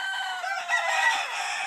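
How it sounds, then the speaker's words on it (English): A farm rooster crows outside a bedroom window near a chicken coop, one fairly close, continuous crow that rises and falls for under two seconds. "I woke up to the sound of a rooster outside my bedroom window"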